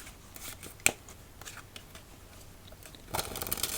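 A deck of cards is riffle-shuffled close to the microphone during a quiet solitaire game, with a few soft taps before a brisk burst of shuffling near the end.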